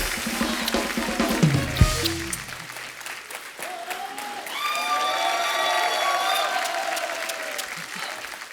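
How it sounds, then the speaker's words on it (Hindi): Studio audience on a Hindi comedy show bursts into applause after a short spoken phrase and some musical stings, the clapping swelling into steady, sustained applause with cheering and a tonal music cue over it. "जोरदार तालियां"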